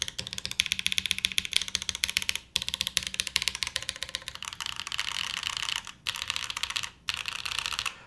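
Fast, steady typing on a Wind x98 mechanical keyboard tuned with foam, dense close clacks in a continuous run with a couple of short pauses, no speech.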